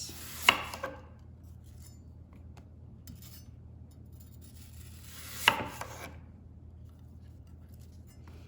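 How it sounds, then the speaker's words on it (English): A knife slices food into small chunks on a board, with two distinct cutting strokes about five seconds apart over a quiet room background. "I'm just literally going to slice this way. And then just do some nice little chunks like this."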